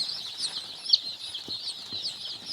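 Sonali hybrid chickens on a small farm, soft scattered clucks and low calls over a steady high hiss of background noise, fairly faint and distant.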